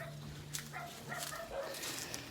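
Faint dog barks and yips come from a distance in short bursts over background noise and low rumble.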